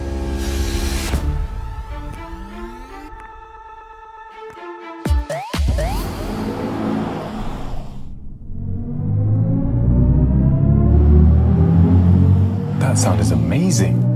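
A BMW i5 electric sedan in sport mode gives off a synthetic drive sound: layered electronic tones that rise and swell over a deep, steady rumble. The sound grows louder and fuller toward the end.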